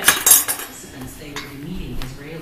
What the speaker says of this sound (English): How would you like me to chop your waffle?